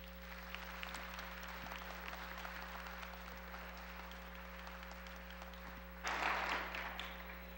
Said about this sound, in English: So with your applause, please welcome Pastor Joy